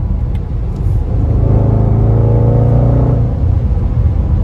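A 2020 Range Rover Velar SVAutobiography's engine blips and revs on a downshift, a loud, close, deep rumble that swells briefly and then settles, with no one talking.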